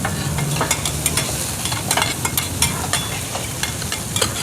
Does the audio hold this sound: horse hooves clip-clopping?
no